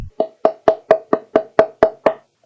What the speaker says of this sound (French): Il tape à la porte.